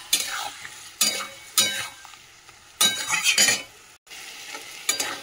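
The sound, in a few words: sautéing spice paste with tomato, chili, ginger, cumin, coriander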